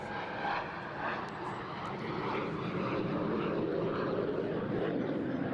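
Small propeller aircraft performing graceful low maneuvers at a seaside airshow, its steady engine drone loud and continuous throughout, with no talk.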